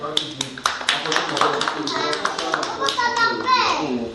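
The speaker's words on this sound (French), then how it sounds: "Applaudissez pour Madeleine." Congregation at a church celebration in Casablanca clapping together after a singer's song, sharp rhythmic hand claps mixed with children's voices and talking, moderately loud in a reverberant room.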